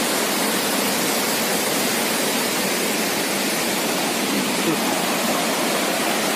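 A torrent of water from a burst hydropower pipe floods across a road, producing a constant close, loud rushing roar that stays unchanged from start to finish.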